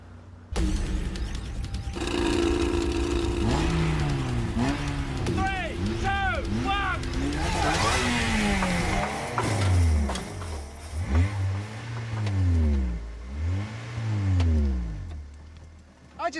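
A supercar engine revs repeatedly in rising and falling sweeps until the clutch burns out, loud and sustained, with a steady idle drone underneath and occasional voices over the top.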